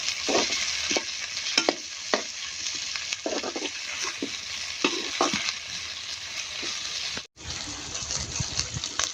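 Chunky onions with ginger being stirred and fried in a pan, a soft steady sizzle under repeated scraping stirs of a spoon against the pan, with one brief pause near the end.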